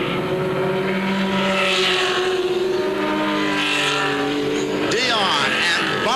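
A race car, smoking from a tire rubbing on damaged bodywork, roars past on the track at Beech Ridge Motor Speedway during a heat of the Pine Tree 100, its engine loud and continuous with pitch sweeping as it passes, under commentary.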